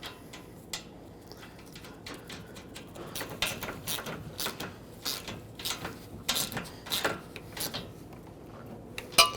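A wrench snugs the mounting nuts on the A/C condenser of a 2008-2010 Ford F-250, giving quiet, close ratcheting clicks and metallic ticks in irregular bursts over nine seconds, with no talking.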